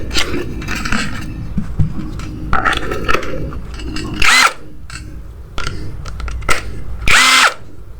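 An NPP cordless impact driver runs at speed 2, whirring steadily up close and loud, broken by repeated hard rattling hammer bursts.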